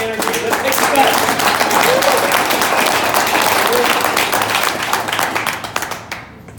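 Loud, close applause from a pitch-night audience, dense clapping with some voices mixed in, sustained for several seconds before thinning out and fading at the end.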